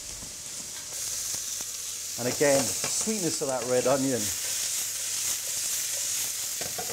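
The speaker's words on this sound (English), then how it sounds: "Want to hear a bit of sizzle?" Chicken sliced thin sizzling in a hot pan, a steady hiss beneath someone speaking briefly in the middle.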